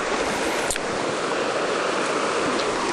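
A river flows steadily around knee-deep waders, with a continuous broadband rush of water close by and a faint splash partway through, no voices.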